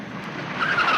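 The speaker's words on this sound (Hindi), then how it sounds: "ठहरो, गाड़ी रोको।" A car brakes hard to a stop, its tyres skidding across the road with a harsh, rising squeal that grows louder over one short second.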